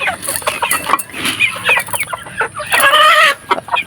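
Several chickens on a farm in the Philippines cluck and squawk close by in a busy, overlapping chorus, with a louder burst of calls near the end.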